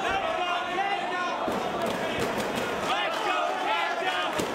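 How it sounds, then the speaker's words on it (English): A wrestling arena crowd in New York City cheers and roars steadily in the background of a bout, under a commentator's continuous talk, with occasional thuds of impacts. "The crowd encouraging KENTA to fire up here in New York City"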